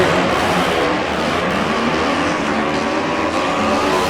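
A KTM motorcycle having issues sits at the start line of a drag race at the 2019 Mancup World Finals. Its engine drones loudly and continuously among race noise, with no talk.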